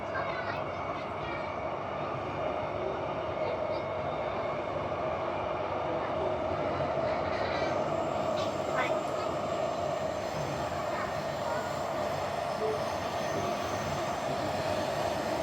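A Transperth A-series electric train on the Thornlie-Cockburn line enters the Glen Iris tunnel. A steady, loud onboard rumble and rolling drone continue evenly throughout, with a person talking over it.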